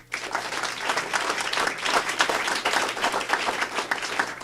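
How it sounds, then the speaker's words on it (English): A school board meeting audience claps steadily and enthusiastically for eighth-grade students, a dense wash of applause that continues throughout without any talking. "round of applause for them"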